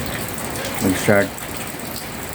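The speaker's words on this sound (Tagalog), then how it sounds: "Kanina pa tong ulan." Steady light rain falls through a Philippine rainy-season afternoon, the soft, long-lasting kind of shower, making an even hiss throughout while a voice speaks briefly over it.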